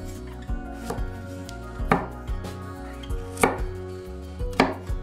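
A knife chops okra on a cutting board in a series of crisp, close thuds at an unhurried, fairly even pace, with no speech.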